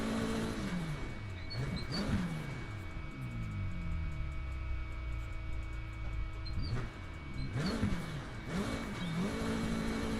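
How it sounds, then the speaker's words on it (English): Race car engine in the Assetto Corsa racing game, roaring loud and continuous with repeated upshift-and-rev surges near the start and again late, held at high revs in between, with no voices. "This car's loud, isn't it?"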